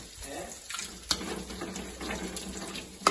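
Water running from a tap into a sink for rasam, a steady splashing stream close by with a couple of brief clinks.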